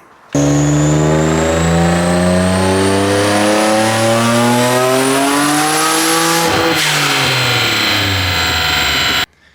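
A turbocharged Nissan 350Z on a dyno pull climbs steadily through the revs with a loud, rising engine howl and turbo whine, then eases off briefly before pulling again, close and continuous.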